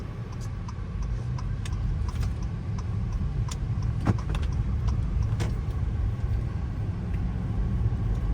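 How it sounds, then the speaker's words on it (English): A used car's engine runs steadily with a low continuous rumble, heard from inside the vehicle during a test drive, with faint ticks and clicks over the drone and no clear gear-shift change. "I'm trying to listen to the engine and transmission shift gears"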